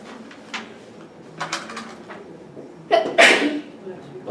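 Two sneezes burst out indoors during a spoken English phrases lesson, a smaller one first and then a louder, close sneeze, with some quiet shuffling noise between them.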